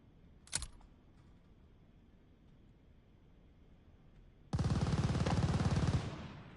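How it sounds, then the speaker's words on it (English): In Call of Duty: Vanguard, a sharp single blast cracks early, followed by a quiet lull, then a dense, loud burst of rapid gunfire and explosive rumble sustained for about two seconds before trailing off. "Friendly mortar fire."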